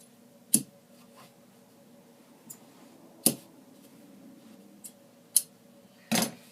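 Scissors cut through Roman shade material in a few sharp, separate snips spaced irregularly, close by and quiet, over a faint background hum.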